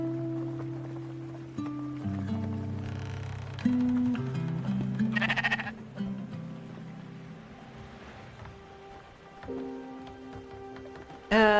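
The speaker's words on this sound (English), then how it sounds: "Sheepy sheep." Sheep in the game Spiritfarer bleat several times in succession, wavering tonal calls layered and overlapping over soft rain-like patter and game sounds, fairly close and clear.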